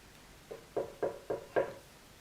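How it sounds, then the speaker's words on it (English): Five knocks on a house door, two quick raps then a steady run, close and fairly faint, with no voices. "he looked at the house and he knocked again"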